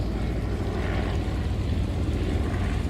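An Avro 621 Tutor biplane's propeller engine in Flight Simulator X gives a steady, moderately loud droning hum that holds evenly throughout with no other sounds.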